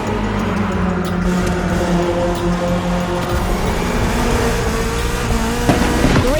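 A BMW E30 drives the roads of Maui in The Crew Motorfest, its engine humming steadily and loud throughout, with a rising rev and brief tire noise near the end.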